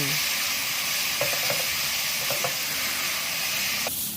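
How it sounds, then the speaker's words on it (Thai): Beef dry-roasting in a pan over medium-low heat, a steady broadband sizzle and hiss with scattered clicks and scrapes of stirring throughout, close and continuous. "จากนั้นนำเนื้อลงคั่วในกระทะ เราจะใช้ไฟกลางค่อนไปทางอ่อนค่ะ ค่อยๆคั่วแบบใจเย็น"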